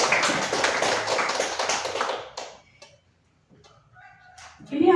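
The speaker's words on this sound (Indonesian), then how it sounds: "tepuk tangan buat Bu ya." An audience at a teacher training session bursts into dense, close applause for about two seconds. The clapping then fades to near quiet, with brief faint voices and small sounds afterward.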